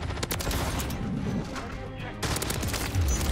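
Rapid bursts of AMR9 gunfire ring out in Call of Duty: Modern Warfare III ranked play, loud fast-repeating shots in a continuous stream with a brief pause before firing resumes.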